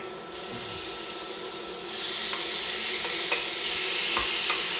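Quick steak meat hitting hot oil in a pan, bursting into a loud, close, continuous sizzle that swells louder partway through, with a few light scrapes and no speech.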